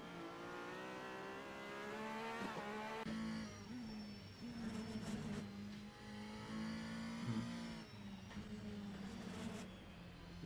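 GT race car engines in a Nürburgring racing sim game, several harmonic engine notes revving up and down in overlapping waves, with a brief tyre squeal and moderately loud, continuous roar.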